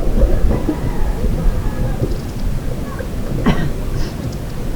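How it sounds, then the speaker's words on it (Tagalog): Steady rain falling by the sea with a dense hiss and patter and a low rumble throughout, while people talk faintly in the background. "Ulan na."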